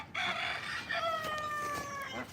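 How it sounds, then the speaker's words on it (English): A one-legged rooster named Cookie at an animal sanctuary gives a close, clear cry with drawn-out tonal notes, alone and fairly soft. "This is my one-legged rooster."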